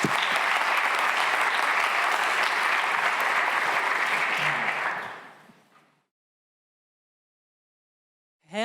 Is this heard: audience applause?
yes